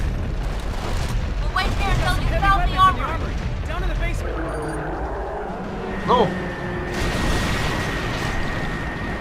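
Rockets fired from a helicopter burst in a BlackSite: Area 51 firefight, producing deep rumbling booms and mechanical clatter under a constant din, with excited talk over the top.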